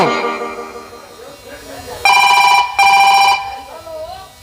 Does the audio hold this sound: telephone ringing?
yes